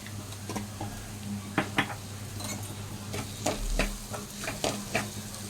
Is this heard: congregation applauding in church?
no